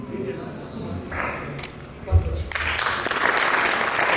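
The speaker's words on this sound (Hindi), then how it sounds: "तालियों से देखिए, तालियों से स्वागत करिए इनका।" At a mushaira, an audience breaks into applause to welcome a poet, starting after a stretch of speech and thumps, then swelling into steady clapping.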